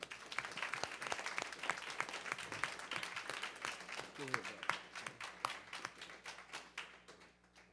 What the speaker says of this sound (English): clap your hands for Dr. Swilly.